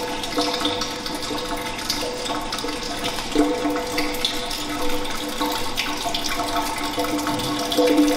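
Water is poured into a small sample bottle while a chlorine analyzer is being calibrated, a steady trickling pour with faint liquid gurgles and sloshing, fairly quiet and close.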